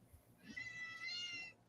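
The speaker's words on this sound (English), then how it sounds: "What are you doing, kitty cat?" A cat meows once in a drawn-out, wavering cry, faint and somewhat distant over a low background hum.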